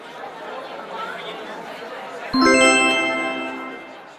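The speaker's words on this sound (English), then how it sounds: "That was the sound of a new order received in the restaurant kitchen." A bright electronic new-order notification ding rings out once over a busy murmur of voices and restaurant kitchen bustle, its tone lingering and slowly fading.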